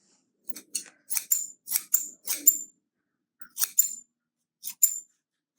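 Scissors snipping through the hair of a handmade Waldorf doll, crisp close metallic cuts in quick pairs and short bursts, with brief pauses between groups and no talking.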